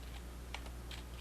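A computer keyboard tapped quickly as a terminal command goes in, a few light, close keystrokes over a low steady hum.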